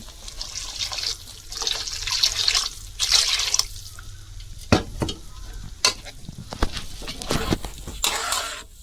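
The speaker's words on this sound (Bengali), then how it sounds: "আমি জল দিয়ে দিব" Masala sizzles and fries in a pan, and water is poured in. Close stirring scrapes and splashes come in uneven bursts over the hissing, with no talk.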